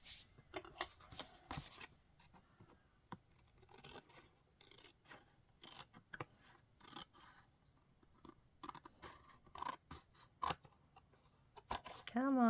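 Paper is cut by hand with scissors in a quiet room, a series of crisp snips and rustles arriving in irregular bursts, close to the listener.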